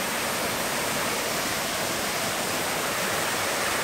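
The Tor-Tip waterfall in Pa-noen Tung, Phetchaburi, gives off a steady, dense rushing roar of falling water, constant and close, with no voices over it.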